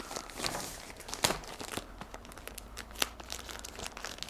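A thick plastic bag, stuck down tightly inside an empty telescope camera box, crinkles and tears as it is ripped open, close and busy with irregular sharp crackles and snaps, no talking.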